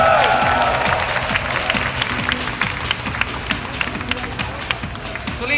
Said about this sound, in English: So again, another round of applause, guys.